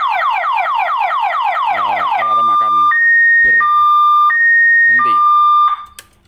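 Inverter alarm in a closed-house chicken coop going off when the power is cut: a loud electronic warble siren gives way to alternating steady high beeps in a repeating pattern, then stops abruptly.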